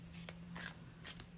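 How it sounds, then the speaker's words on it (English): A deck of tarot cards being shuffled, quiet and close, with soft papery riffles and a few brief flicks over a faint steady hum. "Let's shuffle with intention."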